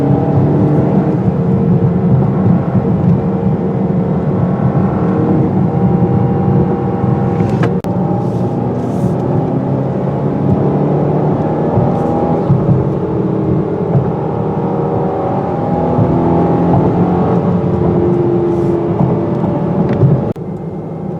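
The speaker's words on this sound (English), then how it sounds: "this vehicle takes corners rather well" Cabin sound of a 2017 Volvo S90 T6 with all-wheel drive cornering on a snowy, icy road in dynamic mode, a steady loud engine and road drone with slowly shifting engine tones and a few faint clicks.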